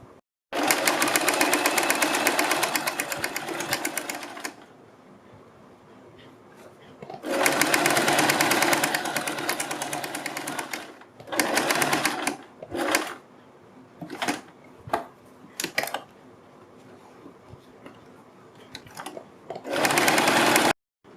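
A sewing machine stitches a seam along a kurti neckline, running in loud sustained bursts of steady whirring, with short stop-start runs and pauses between them.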